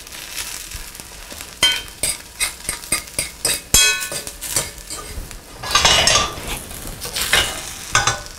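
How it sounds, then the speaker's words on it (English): Eggs for an omelette are stirred in a pan, giving a soft sizzle under a run of quick utensil scrapes and taps against the metal, close and fairly busy throughout. "You want to really keep moving the eggs around after you add them to the pan."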